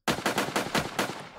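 A Magnum pistol fires in the Sub Rosa video game, a loud, close series of about five sharp shots in a quick, even rhythm, each cracking out and decaying briefly, with no talking.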